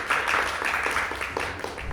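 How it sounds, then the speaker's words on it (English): Applause and clapping from an audience at a televised brand awards event as a speaker steps onto the stage, a dense, steady patter of many hands that holds for about two seconds. "Let's hear a round of applause as he steps on stage"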